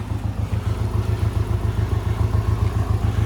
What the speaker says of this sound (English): Exhaust check, that sounds good, and that's what the valve's closed, and it still sounds awesome.